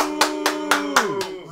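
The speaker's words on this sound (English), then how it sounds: "And now clap for Frederic Hernandez!" Audience clapping comes as five sharp, evenly spaced claps over a sustained tonal backing, fading at the end.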